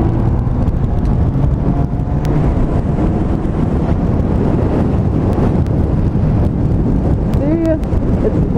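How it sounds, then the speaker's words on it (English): Wind buffets the microphone in a constant low rumble, with a faint voice and a brief chirp of sound near the end. "See, it's windy"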